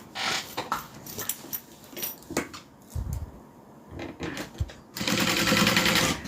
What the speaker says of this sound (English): And then we're going to sew a rectangle